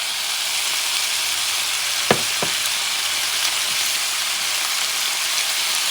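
Vegetables stir-frying with a little soy sauce in a pan give off a steady, close sizzle and hiss, broken by a couple of sharp clinks of a utensil against the pan partway through.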